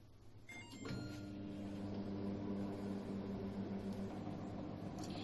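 An LG microwave oven runs a one-minute cycle while making peanut burfi with ghee, a low, steady hum with a faint tonal drone that starts after a short click and holds evenly.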